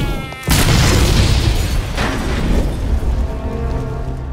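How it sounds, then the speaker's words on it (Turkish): A big explosion in Mafia Definitive Edition hits with a sudden heavy boom, then a long rumbling roar and debris that slowly fade over several seconds, loud and close. "Çok fena bir patlama oldu."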